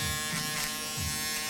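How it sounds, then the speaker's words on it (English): A barber's electric shaver runs steadily against the grain to finish a fade on thick hair, a close, continuous buzzing hum with slight rises as it passes over the skin. "we're gonna get that fade as close as possible with the shaver against the grain"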